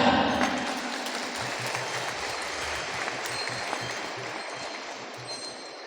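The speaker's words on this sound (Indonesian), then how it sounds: "Tepuk tangan." Applause from an audience in a sports hall during an Islamic sermon, dense and steady from a distance with a faint low rhythmic pulsing beneath it.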